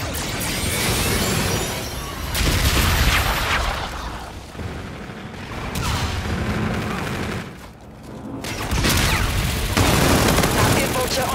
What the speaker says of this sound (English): Bombardment incoming.